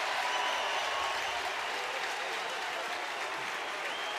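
Home fans at a college baseball game between Georgia and NC State applaud and cheer in a dense, steady wash of clapping that carries evenly throughout the stadium for several seconds.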